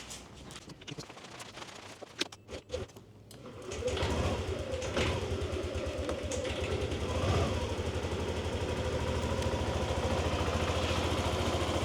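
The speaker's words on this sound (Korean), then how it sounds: "엔진 소리도 굉장히 정숙하고요" A 2021 Yamaha NMAX 125 scooter engine starts up after a few clicks and knocks, then settles into a steady, even, quiet idle that runs on close by.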